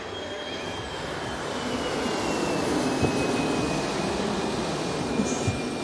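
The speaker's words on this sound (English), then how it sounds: "Well, it's still good sounding aircraft." Airbus A300 jet engines in the X-Plane 11 flight simulator, a steady loud broadband roar with a faint high whine that swells slightly and holds throughout.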